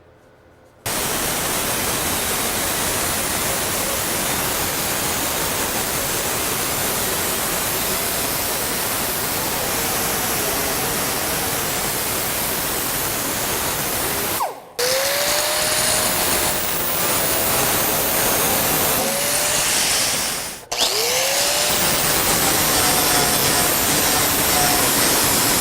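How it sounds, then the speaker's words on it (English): An angle grinder works down a MIG weld on a Porsche body panel, a loud, steady broadband roar lasting nearly the whole time. It drops out briefly twice and spins back up each time. "Gonna grab my grinder and try and take down some of the MIG weld on the outside of it a little bit there"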